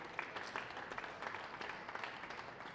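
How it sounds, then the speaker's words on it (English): Applause from an audience at a squash open event, a soft, steady patter of many hands, distant and quiet throughout. "So give yourself a round of applause."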